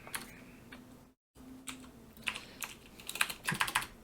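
Rapid clicking of computer keys, a brief pause, then steady typing that grows busier and louder toward the end.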